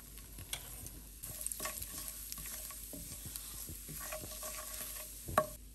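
Mango pickle mixture of cut green mango, garlic and crushed mustard sizzles in a pan over a low flame, with a spoon repeatedly scraping and stirring through it; no talk.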